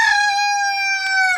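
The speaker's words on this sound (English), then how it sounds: "got a bunch of chickens in here" A rooster crows loudly and close by, one long sustained call from inside a chicken coop, with no talking.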